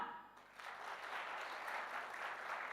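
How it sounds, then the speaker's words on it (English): Crowd applause rises after a brief quieter start and holds steady as a dense wash of clapping at an architecture and design awards ceremony in a large hall, heard without talk. "Keep the applause rolling for many more things coming on stage"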